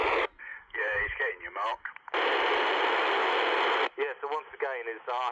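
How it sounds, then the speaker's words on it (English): A CB radio receives a transmission, giving a voice over the speaker with a band-limited, slightly noisy tone. A burst of open static hiss sits between bursts of talk. "This is sounding really good now, this radio."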